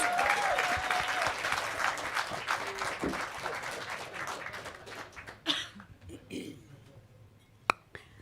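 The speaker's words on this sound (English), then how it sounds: "can I ask you to welcome my panelists with a warm round of applause, please?" A conference audience at a business panel on reproductive justice breaks into a warm round of applause to welcome the panelists. The dense clapping fills the room, with a cheer early on, then thins out and fades into scattered claps and murmuring voices.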